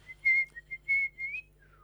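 A person whistling a short tune, clear close notes in a few quick phrases with brief pauses, ending on a falling note, no talking.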